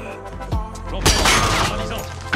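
Loud close gunfire in the battle royale shooter Warzone, a few sharp thumping shots followed by a burst of rapid fire, with a player's voice speaking during it.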